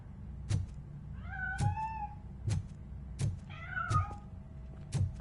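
Cat meowing in RoboCop: Rogue City, two drawn-out meows between repeated dull thumps, fairly close over low ambient game background.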